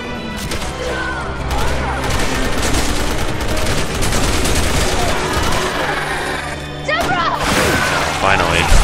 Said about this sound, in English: And then Leon's busy shooting me when I get up.